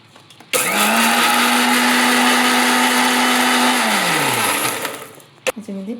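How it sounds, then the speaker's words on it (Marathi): An electric mixer blending mango and milk for mango mastani, switching on with a loud, steady whir that holds for about three seconds, then winds down before a few clinks of the jar. "मी हा आंबा मिक्सरमध्ये घालते."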